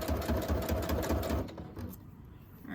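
A sewing machine stitches envelopes with clasps attached, running in a fast steady mechanical chatter for over a second before slowing and stopping, leaving quieter handling noise.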